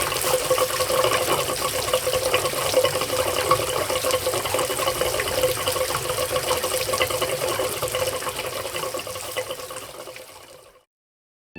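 Water gushes steadily from a pressure tank draining in a pump shed, a loud continuous close splashing rush that fades and then cuts off at the end.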